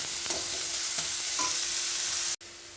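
Onions softening in a pan with a pinch of salt, stirred over low heat: a steady close sizzle with soft scraping strokes of the spoon, cutting off abruptly near the end.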